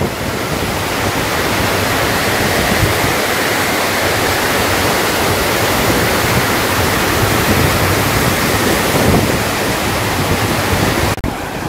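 A loud, steady roar of water rushing out through the shutters of Pechiparai Dam in Kanyakumari, continuous and close, with no voices.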